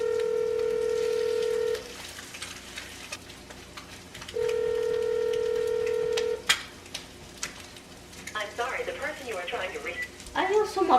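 Two long steady ringback tones repeat on a phone call that goes unanswered, heard over faint background noise, followed by a voice speaking.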